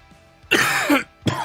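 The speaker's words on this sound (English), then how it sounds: "sorry about all the coughing" A man with a lingering illness gives a couple of harsh, loud coughs close to the mic, a long rough burst followed by a shorter one, with no speech.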